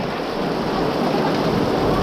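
Heavy rain pours in a loud, dense, unbroken roar with low thunder rumbling beneath, over misty mountains near Vang Vieng in Laos.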